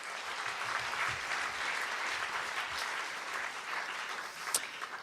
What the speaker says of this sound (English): please, can we applaud their contribution to the French culture in the US?